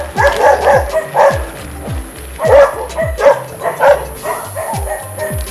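A dog barks repeatedly while chasing a Pleedo X K1 e-bike on a road, yapping in quick bursts close behind under steady engine-free motor hum, with a horn-like tone in the background.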